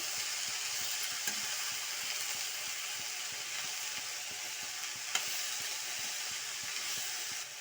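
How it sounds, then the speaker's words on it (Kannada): Green gram being stirred into a hot pan for husli, a steady frying sizzle and hiss with soft scraping stirs throughout, no voices. "ಕಾಳನ್ನೆಲ್ಲ ಈ ಥರ ಹಾಕೊಬೇಕು ನೋಡಿ ಈ ರೀತಿ ಮಿಕ್ಸ್ ಮಾಡಿ"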